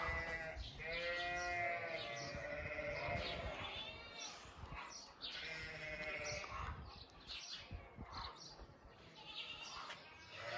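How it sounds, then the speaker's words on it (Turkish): Several sheep bleat loudly in repeated overlapping calls, with a voice or two and farmyard bustle in between. "koyunlar da nasıl bağırır"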